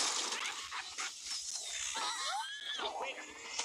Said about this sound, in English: Look at these dogs.